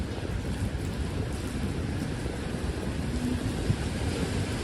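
Heavy rain falls on a New York City street at night, a dense, steady hiss and patter filling the scene with low rumbling background noise and no voices.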